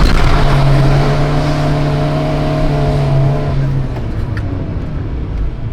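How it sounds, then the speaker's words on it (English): Honda D-Series four-cylinder heard from the engine bay, a loud steady idle hum with a strong low tone that drops away after a few seconds, leaving quieter rumble. "We're not getting any sound in the rear, but instead, we're getting it all up in the engine bay."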